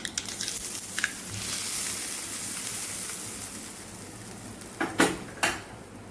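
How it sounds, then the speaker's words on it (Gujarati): A hot mustard-seed tempering sizzles briefly over steamed semolina and gram-flour dhokla, a soft hiss fading out, followed by a few sharp clinks of a utensil against a dish. "સીધો વઘાર આપણે ઢોકળાની ઉપર ઉમેરી દઈશું"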